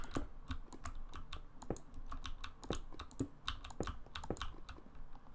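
Rapid, uneven clicking of keys on a computer keyboard, close and fairly loud, with bursts of strokes continuing steadily through the stretch and no talking.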